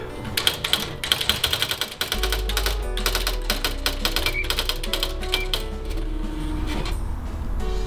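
Typing on a manual typewriter: a rapid run of sharp, close key strikes, then a continuous low hum under the clacking keys, loud and without speech.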